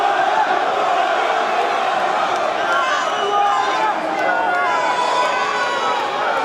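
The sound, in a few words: crowd cheering and booing Carl Froch at weigh-in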